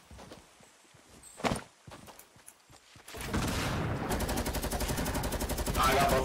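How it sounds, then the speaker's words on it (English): A minigun fires in a video game, a dense, rapid stream of shots starting midway after a few scattered footstep-like thuds and continuing loudly to the end. "I hit him a couple times with the minigun"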